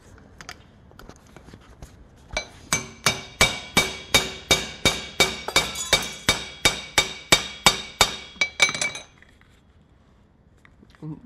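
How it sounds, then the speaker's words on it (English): Old copper rivets being peened with a hammer: a quick run of about eighteen sharp metallic strikes at a steady rhythm, close and loud, with quiet pauses before and after. "know how much hammering it takes to mushroom that out like that?"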